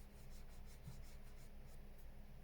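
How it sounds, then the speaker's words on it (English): A bigger pencil eraser rubs on sketch paper while a silver bell is being drawn, making a faint, steady, close scrubbing hiss with a soft rhythmic back-and-forth pulse and no talking. "So I'm going to do a little bit of a bigger eraser here because we've got more to erase."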